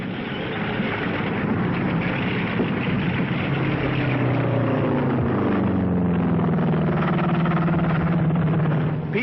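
A World War II P-38 fighter plane flies past with a steady, loud propeller-engine drone that holds throughout, its pitch slowly falling as it passes over.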